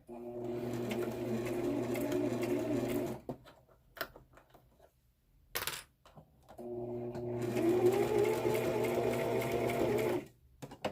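A sewing machine stitches a fabric face mask in two bursts of quick, steady needle rattle separated by a pause with soft handling noises, then stops, all close by and without talk.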